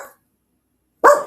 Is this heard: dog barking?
yes